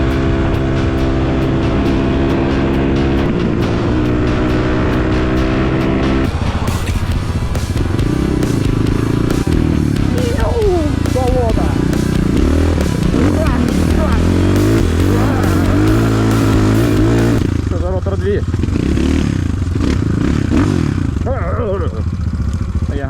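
A motorcycle with a swapped ZS 172FMM engine fitted with a 77mm big bore kit revs and rides loudly, its engine note rising and falling through gear changes against heavy wind noise.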